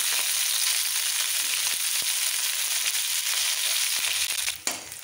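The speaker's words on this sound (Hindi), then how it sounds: "सबसे पहले हमें गोभी को भून लेना है।" Cauliflower florets fry in hot oil for a Bengali khichdi, a dense, bright, continuous sizzle heard up close with a few small pops and a brief stir near the end, no voices.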